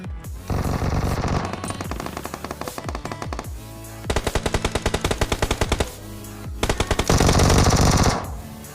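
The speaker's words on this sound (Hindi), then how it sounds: "बहुत ज़्यादा फायरिंग के साउंड आ रहे थे" Heavy automatic gunfire in a video game, long rapid bursts of machine-gun shots crackling loud and close, separated by brief pauses, with no voices.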